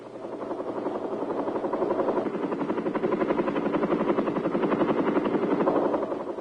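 Huey assault helicopters in Vietnam, 1967, take off with a steady, throbbing rotor chop and engine roar that swells slightly and holds, loud and close.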